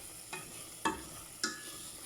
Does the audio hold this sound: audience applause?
no